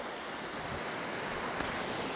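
Ocean surf rolling in under rough, grey weather, a steady broadband wash of waves with some wind noise, continuous and moderately distant, no voices.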